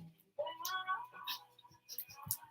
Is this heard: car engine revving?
no